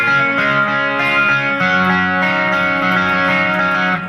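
Electric guitar playing an opening riff through delay, chorus, light reverb and a light crunch of gain, with sustained, shimmering repeated notes that change chord partway through, close and loud with no talking.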